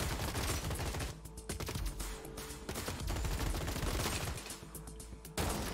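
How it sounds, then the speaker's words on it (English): Robots trade fire in the Gladiabots video game, rapid bursts of game gunfire crackling almost continuously, loud and close, with brief lulls between volleys. "Okay, that one's shooting this one."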